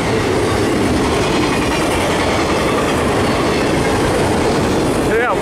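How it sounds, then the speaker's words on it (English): A long CSX freight train speeds past in North Chili, New York, its loud, close rumble and wheel clatter filling the scene steadily, with a brief wheel squeal near the end. "We got a CSX."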